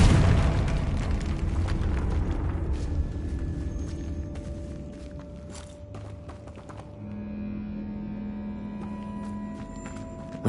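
A Confringo spell explosion in the Hogwarts Legacy video game, a loud booming blast that rolls into a long rumbling decay and settles into a sustained tone, with no voices.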